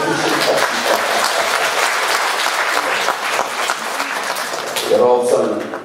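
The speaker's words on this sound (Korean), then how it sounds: "다시 한번 박수 주십니다" An audience at a party chapter's founding assembly claps steadily, dense applause running throughout with voices mixed in and a brief swell near the end.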